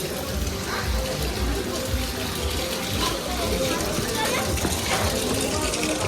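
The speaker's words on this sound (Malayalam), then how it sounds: "അവിടെ നിന്ന് വരുന്ന വെള്ളം കേട്ടോ ഇത്. ഇതൊക്കെ ചൂടുവെള്ളം കേട്ടോ അത് വരുന്നത്." Hot spring water at Vashisht Temple in Manali pours and gushes steadily in a dense, unbroken rush, loud and close throughout, with voices talking faintly over the flow.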